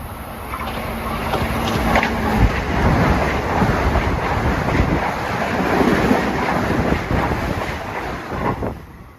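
An LIRR commuter train rushes through Forest Hills station at evening rush hour, a loud continuous roar of wheels and wind that swells and fades slightly as it passes, with no one speaking.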